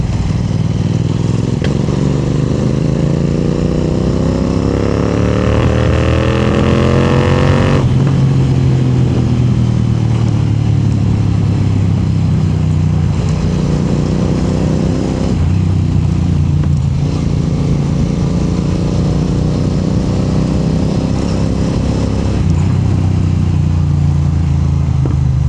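A Royal Enfield Interceptor 650 motorcycle fitted with a Red Rooster aftermarket exhaust, heard loud and close while being ridden, with a steady deep thumping exhaust note that rises and falls through several throttle pulls and gear changes.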